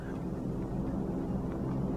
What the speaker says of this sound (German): Ah ne, Quatsch, das ist ein Flugzeug.